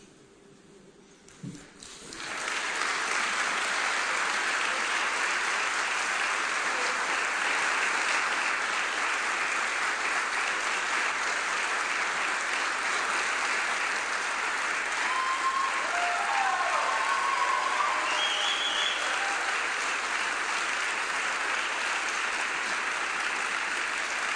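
Long, loud, even applause from a graduation audience for firefighter training officers walking to the stage, starting abruptly after a moment of near silence and holding steady throughout, with faint voices briefly rising midway.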